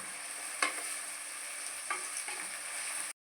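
Sliced onions sautéing with salt in a pan for brinjal gravy, a soft steady sizzle with a few sharp scrapes of a spoon stirring, close and alone without talk.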